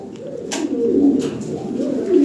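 Several Lahori Sirazi pigeons keep up a continuous, soft, rolling coo, nearby and steady, the deep burbling swelling slightly toward the end, with no people speaking.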